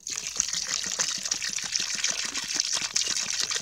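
Water pours steadily from a container into a small desert water hole for wild animals, a continuous close splashing trickle with no speech.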